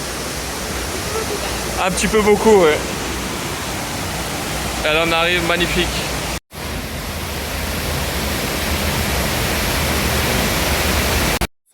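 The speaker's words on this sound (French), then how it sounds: "On arrive au bout de la cascade qui est au fond là." Steady broadband roar of a nearby waterfall in Tetebatu, Indonesia fills the whole clip, with people talking briefly over the rushing water.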